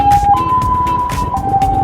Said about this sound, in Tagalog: Ayun eh, may ambulansya pa oh.